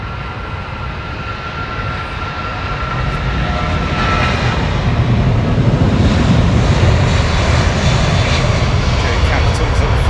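Airliner powered by Rolls-Royce Trent jet engines at Heathrow Airport, a loud, broad roar building steadily as it gets closer, with a voice speaking over it.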